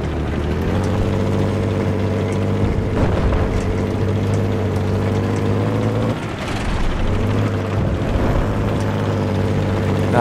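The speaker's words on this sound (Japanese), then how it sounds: "あー、攻撃ヘリが来てる。" In the video game Battlefield 4, during Operation Firestorm, an attack helicopter drones in with a steady low rotor and engine hum, holding loud and close with brief thuds and a short dip partway through.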